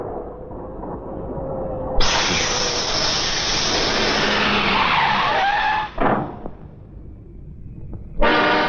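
A car skids to a stop on a punctured tyre, giving a loud sustained screech of about four seconds, then a brief second burst and a short squeal at the end.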